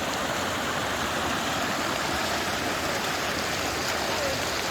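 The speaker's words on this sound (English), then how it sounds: "There's the river." Steady rushing water of a river flowing out of a big spring at the base of a mountain in Sheep Creek Geological Area, Utah, a constant broadband roar held close and unbroken throughout.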